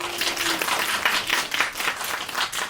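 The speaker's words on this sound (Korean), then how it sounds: "박수 부탁합니다." A small audience at a poetry concert claps in a steady, moderately loud patter that lasts a few seconds.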